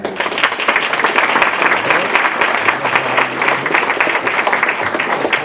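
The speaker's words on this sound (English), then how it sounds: "How about a round of applause for all the candidates?" Audience at a city council candidates' forum applauds the candidates: sustained, dense clapping from a full room, steady and fairly loud for several seconds with faint voices underneath.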